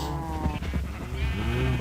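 Sheep on a Minecraft farm bleat in short wavering calls, close and clear against a steady game background, with no talking.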